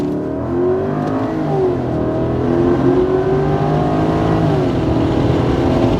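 A Lexus LS460's 4.6-litre V8 roars under hard acceleration, pitch climbing steadily through the gears, loud and continuous with no voices.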